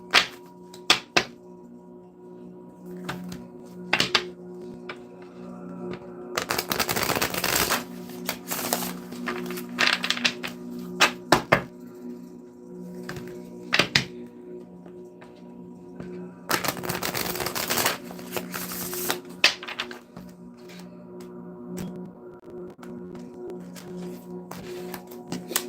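Two bursts of tarot card shuffling, each riffling for a couple of seconds, separated by quiet tapping and soft thumps over a low steady hum.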